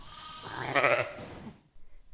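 A sheep bleating on a Welsh farm, one close wavering bleat lasting about a second against quiet farm background.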